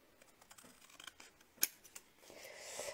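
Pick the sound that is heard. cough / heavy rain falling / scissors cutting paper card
scissors cutting paper card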